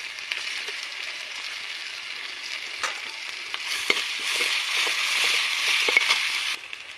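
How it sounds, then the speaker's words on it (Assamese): Onions and ginger-garlic frying in hot oil for a fish curry, a steady dense sizzle with occasional crackles and spatters, growing louder midway and then dropping off near the end. "তেল গৰম হোৱাৰ পাছত মই পিঁয়াজ দি দিছোঁ"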